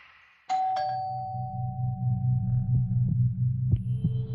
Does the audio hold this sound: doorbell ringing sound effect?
yes